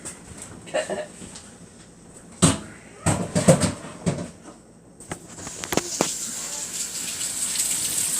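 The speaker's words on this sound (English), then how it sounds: "we are going to wash our meat. And all that means is just rinse it off really good." Tap water gushes in a kitchen sink while raw chicken is rinsed, with a steady hiss broken by clunks and splashy handling sounds, and a voice speaks briefly.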